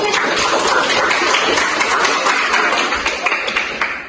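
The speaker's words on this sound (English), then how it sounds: "Give applause for Smith." A class of students in a microteaching lesson applauding a classmate, a loud, sustained burst of many hands clapping that gradually thins out toward the end.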